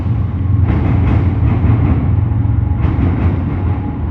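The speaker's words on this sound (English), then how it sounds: "hopefully you can hear us from the trains. Hopefully it's not too loud for you guys." A train rumbles past nearby, a loud low roar with rhythmic clatter of wheels over rail joints, steady throughout.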